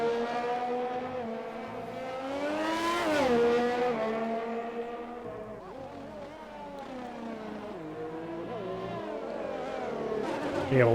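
A race car brakes hard into a corner at Abu Dhabi, its loud engine note dropping and rising through quick downshifts, a continuous close roar across the whole stretch.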